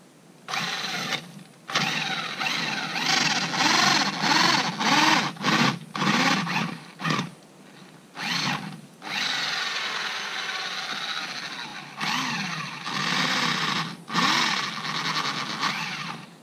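A power drill fitted with a 100mm Sutton Tools garden auger whirring in repeated bursts, its motor pitch bending under load as it bores into the ground, close and loud.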